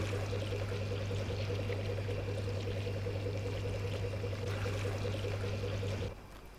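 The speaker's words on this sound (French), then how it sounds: "Parfois, Madame Bousquet vient donner un coup de main pour transvaser l'agnole" Fruit brandy (gnôle) being poured from a travelling still into a container, a steady close stream of liquid over a strong low hum that stops abruptly near the end.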